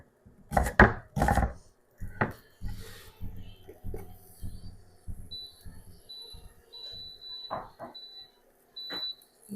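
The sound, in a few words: chopping mushrooms with a knife on a wooden board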